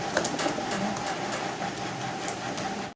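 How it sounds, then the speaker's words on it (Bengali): Racer pigeons coo softly in a loft, their low murmuring calls blending with a steady busy background rumble throughout. "দর্শক ভিডিও স্ক্রিনে আপনারা দেখতেছেন রেসার কবুতর"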